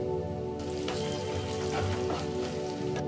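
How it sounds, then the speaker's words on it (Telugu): Onions frying in a pan with a pinch of turmeric give a continuous close sizzle with crackling pops over a low steady hum. "ఉల్లిగడ్డలు వేగి లైట్ పింక్ కలర్లోకి వచ్చాక ఇందులోకి ఒక చిట్కడ పసుపు"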